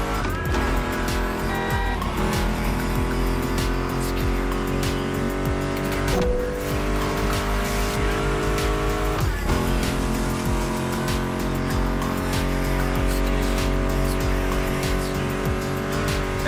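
Racing car engines roaring in the video game The Crew Motorfest, PS5 street racing, a continuous loud engine drone with tire squeals and gear shifts, layered over steady music.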